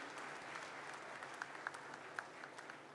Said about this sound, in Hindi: एक बार फिर से ताली बजाइए मुख्यमंत्री जी के लिए